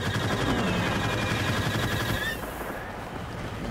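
Rapid blaster fire in Star Wars: Battlefront rattles continuously at close range, loud and steady, before easing off into quieter game ambience near the end.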